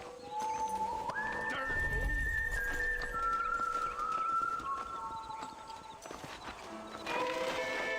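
A horse in the Red Dead Redemption video game, its hooves clip-clopping in a steady rhythm alongside a drawn-out whinny and a whistle, with game ambience and little speech.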